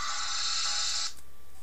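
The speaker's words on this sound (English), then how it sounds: "that's my phone's ringtone" A phone rings out a sustained electronic text-message tone for about a second, fairly close and alone, then cuts off into quiet room noise.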